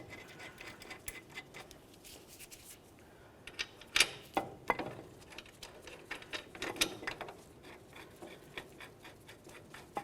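Ratchet clicks while tightening caliper bracket bolts on a 2004-2015 Nissan Titan front brake, with short bursts of rapid clicking and some louder metallic clacks, close up and without talk.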